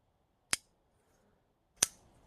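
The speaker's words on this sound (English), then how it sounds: "You can hear the detent, how clicky it is." A Kizer Lieb budget folding knife with a Micarta handle and N690 blade flips open on its detent, two crisp, sharp clicks about a second apart, close and isolated against near silence.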